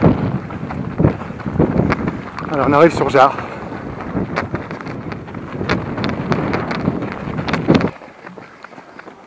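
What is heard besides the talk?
wind blowing on microphone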